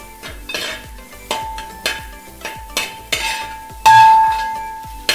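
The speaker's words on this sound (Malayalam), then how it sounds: "നമുക്കിതെല്ലാം കൂടെ കൂടി ഒന്ന് കൂട്ടി ഇളക്കാം." A utensil scrapes and taps against a pan while stirring egg fried vermicelli, a series of sharp metallic clinks roughly every half second over a light sizzle, with one ringing metal tone near the end.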